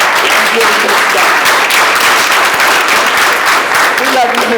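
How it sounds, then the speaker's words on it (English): An audience applauds at a Douglas youth council meeting, a dense, sustained clapping that stays loud and even throughout with some voices mixed in. "join me in applauding her for all the extra time she took in getting this done"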